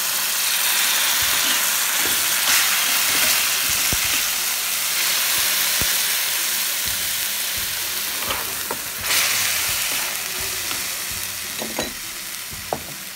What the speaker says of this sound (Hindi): टोमेटो प्यूरी डालेंगे